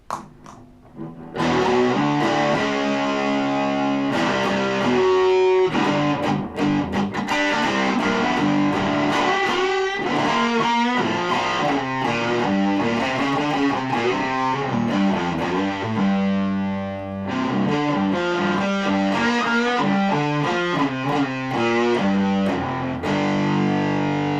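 A heavily distorted electric guitar plays thick, saturated chords and riffs continuously, loud and dense, with a fuzzy, buzzing tone throughout.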